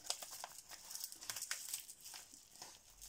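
A mail envelope is being opened, with faint, close paper crinkling and rustling for a few seconds.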